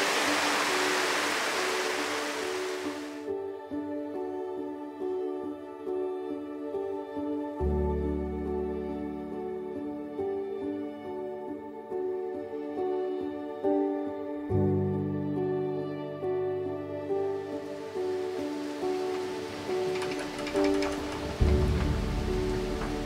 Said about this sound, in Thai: เดี๋ยวนั่งฟังสายฝนไปก่อนฝนหยุดเราค่อยออกไปเที่ยวกันค่ะ